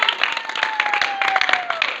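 Theatre audience applauding at a stage comedy performance as a cast member is introduced, a dense, steady wash of clapping lasting throughout, with a faint sustained tone running under it.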